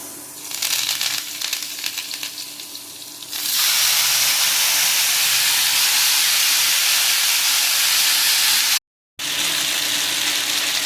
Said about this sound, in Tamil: இப்போது மரவள்ளிக்கிழங்கு தாளிக்க போகிறேன்.